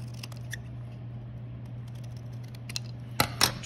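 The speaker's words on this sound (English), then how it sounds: "I'm going to take my scissors" A faint low hum in a quiet room, then two quick crisp snips near the end as scissors trim a truss gusset plate.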